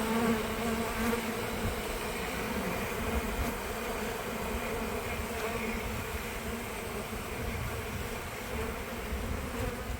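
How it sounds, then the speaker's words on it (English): Honeybees from a huge oak tree hum in a steady, dense buzz that holds at an even, moderate level throughout, with no voices. "You can see some bees coming out."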